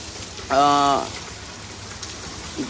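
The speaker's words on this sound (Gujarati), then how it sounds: "હાલ જે રીતના દ્વારકામાં જે મેઘો મન મૂકીને વરસી રહ્યો છે" Rain falls steadily in Dwarka as a soft, even hiss, broken early by a brief tonal honk-like sound lasting about half a second.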